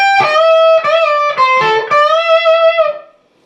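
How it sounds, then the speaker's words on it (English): A short, distorted electric guitar phrase, the second outro lick of a song, gives a few picked and bent notes on the high strings, loud and alone before decaying. "second outro lick will sound like this"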